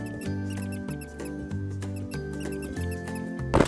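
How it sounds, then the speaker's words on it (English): A pet hamster squeaks in a quick run of high, chirpy calls over steady background music, ending with a brief louder scuffle. "Hamster."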